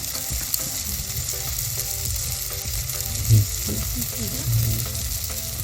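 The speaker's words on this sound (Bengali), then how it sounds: "এবার আমার টমেটোটা ভাজা হয়ে গিয়েছে" Tomato frying in a pan with turmeric, cumin and chilli powders being added for a bean curry, a steady soft sizzle with occasional stirring scrapes, fairly quiet and continuous.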